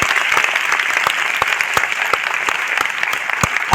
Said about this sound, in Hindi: एक बार सभी इंटायर लीडरशिप मेंटरशिप के लिए जोरदार तालियां।